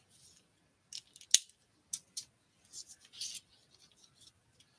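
Scissors fussy-cut paper in a few short, quiet snips and rustles, close by with pauses between cuts.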